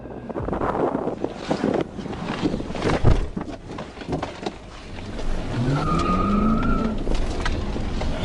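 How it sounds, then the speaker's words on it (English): A suspects' car speeds the wrong way into oncoming traffic on a busy interstate during a police chase, heard as rough engine roar and wind buffeting with a sharp thump midway and a rising tonal whine near the end. "the suspects, they floor it, straight into oncoming traffic"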